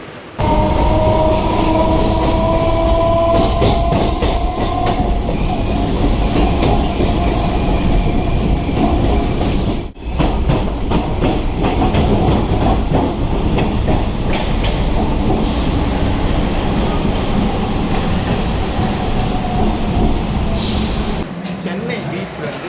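A Chennai MRTS suburban passenger train on the Beach–Velachery section rumbles steadily along the rails with rhythmic clacking and occasional wheel squeal, loud and continuous throughout.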